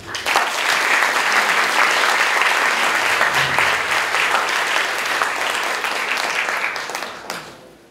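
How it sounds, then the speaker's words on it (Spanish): A welcome ceremony audience for incoming university students breaks into warm, sustained applause that builds quickly, holds steady, then tapers off and fades out. "pido un cálido y caluroso aplauso."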